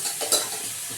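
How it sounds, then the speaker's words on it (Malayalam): Soaked rice is tipped into a hot pan of fried ginger, giving a short, bright sizzle with a stirring scrape, close and alone. "ഞാൻ അരി അങ്ങോട്ട് ഇടുകയാണ്."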